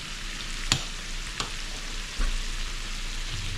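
Shrimp stirred around in a crawfish pasta pan fry with a steady close sizzle, broken by a few sharp scrapes and knocks of the utensil against the pan, and no talking.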